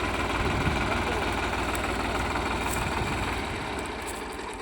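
A tractor that will pull a rotavator sits idling in a grassy field, a steady loud low rumble with a faint knock that fades slightly toward the end, alone with no talk.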